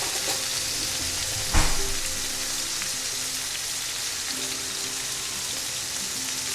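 Beef steak sears in a hot pan with a steady, close, full-band sizzle and crackle, one sharp pop or clatter breaking through early on, otherwise continuous and even throughout.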